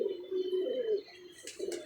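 A pet pigeon gives a drawn-out low coo close by, then a shorter second coo after a brief pause.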